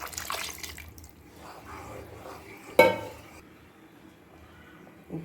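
A little water is sloshed and swirled to rinse a metal pot while making sambar, with a single sharp clank of metal partway through and soft scraping around it.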